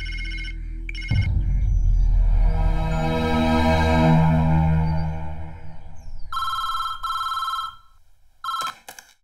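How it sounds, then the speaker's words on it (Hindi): A telephone rings indoors, with electronic trilling bursts repeating in a steady pattern near the end after a loud swelling dramatic passage. "अरविंद, तुम्हारे लिए फोन"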